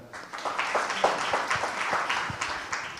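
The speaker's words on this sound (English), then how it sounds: "Another round of applause for them." An audience applauding panelists at an awards event, a brief burst of clapping that swells and holds steadily for a few seconds.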